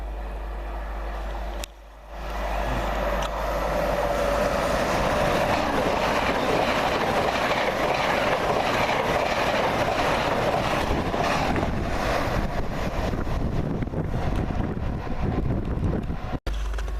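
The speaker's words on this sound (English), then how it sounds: "There's a fast train approaching from the other direction, which is another Azuma" A fast Azuma express train rushes through Reston station in Scotland, a sustained loud roar of wheels and rushing air with heavy wind buffeting on the microphone, beginning after a brief quieter moment and holding strong until a sudden cut near the end.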